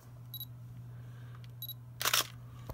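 A single-lens reflex camera fires its shutter: two short high beeps, then a loud crisp mechanical shutter snap, close up over a low steady hum.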